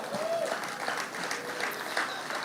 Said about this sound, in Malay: satu tepukan gemuruh untuk beliau.